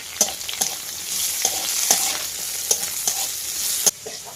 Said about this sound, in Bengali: সব কিছু বন্ধুরা লাল লাল করে ভাজা ভাজা হয়ে গেছে